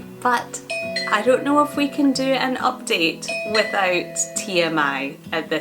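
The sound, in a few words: doorbell ringing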